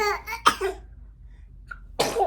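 A single close sneeze bursts out after a stretch of quiet, followed by a second sharp, sneeze-like burst near the end.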